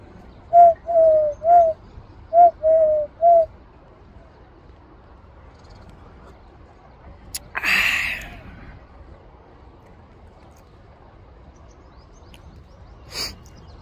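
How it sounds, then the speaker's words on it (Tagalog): A dove coos in a quiet outdoor sports field, giving a short run of about six soft, evenly spaced calls near the start, followed by a brief rustle and long stretches of near silence. "naririnig niyo yan, yung huno ng ibon"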